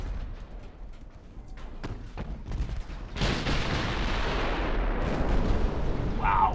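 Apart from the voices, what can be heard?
14-inch battleship guns firing in a naval video game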